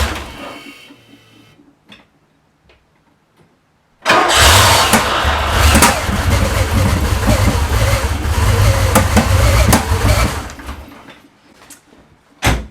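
Porsche 928 V8 engine with its air pump belt removed cranks and fires at about four seconds, then runs loud and close with a steady rumble for roughly six seconds before revving down, after quiet handling sounds.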